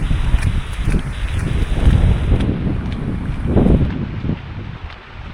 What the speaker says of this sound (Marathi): हा पाऊस जोरात पाऊस आहे.